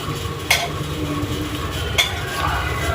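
Pulihora tamarind rice being mixed in a pan: a soft continuous scraping and stirring with two sharper clinks of a utensil against the pan, close by and with no talking.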